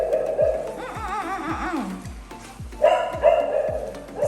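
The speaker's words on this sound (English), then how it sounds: "and that is scotch barking." A dog barks repeatedly in short, fairly close yaps in a steady rhythm, with a few higher whiny tones mixed in.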